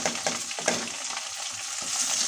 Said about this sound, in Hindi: अब इसी के साथ मैं हरी मिर्च डाल देती हूँ